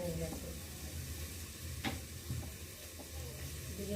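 Potato curry for vegetarian aloo dum sautés in a pan, giving a steady close sizzle and hiss with a few scraping stir strokes.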